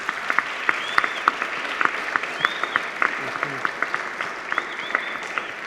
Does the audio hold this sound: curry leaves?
no